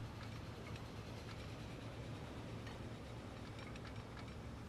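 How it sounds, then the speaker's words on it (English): A train in Transport Fever 2 rumbles past with a steady, faint rolling drone and light clicking of wheels, continuous throughout and no voices. "Train inbound."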